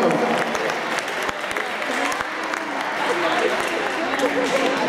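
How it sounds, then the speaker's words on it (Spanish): A room full of people at a science fair awards ceremony claps steadily in continuous applause, dense and even, with a few individual claps standing out and faint voices mixed in. "Un fuerte aplauso para ellos entonces."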